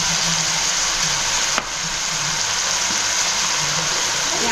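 Masala frying in a pan with tomato, a steady close sizzle running unbroken throughout with one brief stir or tap partway, no talking.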